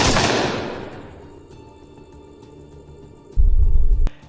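Gunfire exchanged from both sides in a police encounter with a gangster in Uttar Pradesh, a single heavy blast decaying into a long rumble, then a loud low burst near the end.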